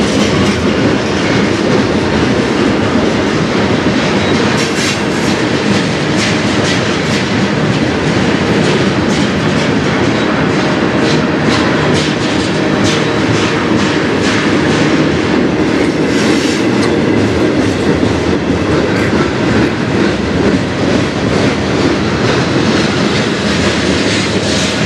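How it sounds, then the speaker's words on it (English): A CN freight train rolls past on the Strathroy Subdivision, loud and close, with a steady rumble and rhythmic clickety-clack of wheels over rail joints lasting throughout. "There's another train coming"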